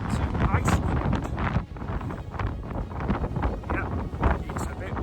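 Strong wind buffets the microphone in heavy, roaring gusts on Iceland's Snæfellsnes peninsula, loud and uneven, with a brief lull partway through.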